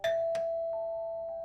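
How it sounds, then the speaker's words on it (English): A doorbell chimes once at a Halloween front door, a bright ding-dong with a long sustained tone ringing on and fading slowly, loud and alone. "the doorbell rang again."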